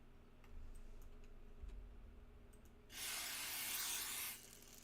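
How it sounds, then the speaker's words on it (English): Acid sprayer spraying in a video game: a single broad, loud hiss burst lasting over a second after quiet faint ticking, then cutting off abruptly. "This is for the acid spray. The acid sprayer."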